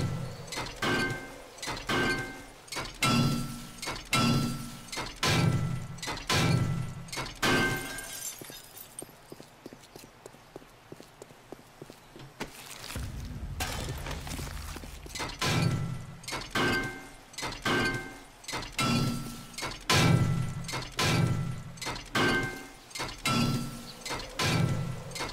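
Glass jars in 7 Days to Die smashing repeatedly, a rapid run of sharp shattering crashes with clinking debris, loud and close, broken by a brief muffled pause before the breaking resumes.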